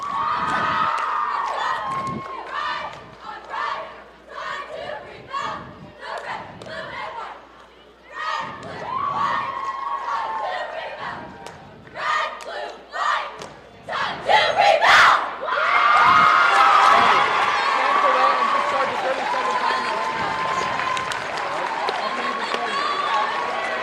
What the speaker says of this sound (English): South Central's cheer team is performing their cheer routine right now.